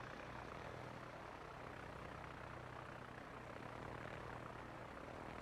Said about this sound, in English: And following that up with some torpedo planes.